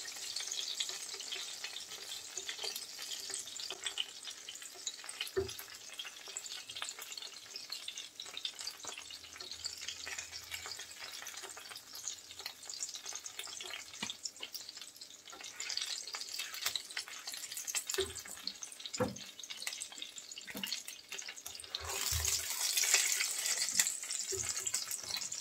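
Rui fish pieces fry in hot oil in a home kitchen, a soft steady sizzle with occasional clinks and stirring knocks, swelling louder near the end.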